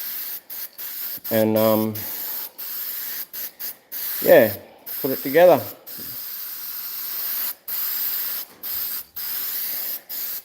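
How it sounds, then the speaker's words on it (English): Copper spray paint applied to a head gasket for a 350 Chevy engine in a Jaguar, several bursts of aerosol hiss with short pauses, close by, and someone talks briefly partway through. "we'll paint this with some of this copper spray to make sure she seals super uber duper good"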